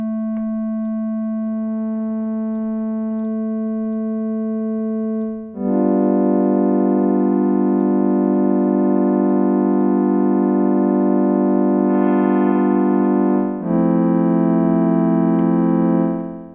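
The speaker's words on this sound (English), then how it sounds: "Going to bring in a sine wave an octave higher." A sustained pulse-wave synth pad holds steady, then thickens as a sine layer an octave higher joins, changing texture twice; loud and continuous with no voices.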